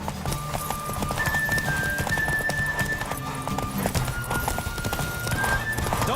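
Horse galloping in The Witcher 3 video game, rapid rhythmic hoofbeats pounding close and loud throughout a race, with a whinny and a thin sustained musical tone riding above the clatter.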